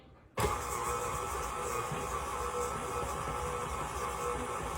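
An electric mixer abruptly kicks on creaming butter and sugar, whirring loudly and steadily, a constant mechanical drone with no speech over it.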